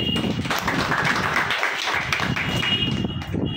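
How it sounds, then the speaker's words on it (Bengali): A group of people in a quiz class clap their hands loudly and continuously in a dense, fast patter, close and steady throughout. "দাদা বল, ওর জোরে জোরে হাততালি"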